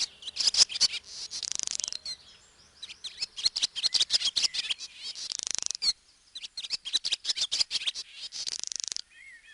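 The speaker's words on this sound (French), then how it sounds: "Et c'est parti pour l'hirondelle rustique." Barn swallow song, a rapid run of high twittering chirps and warbles in quick bursts, close and clear with brief pauses between phrases, no voices.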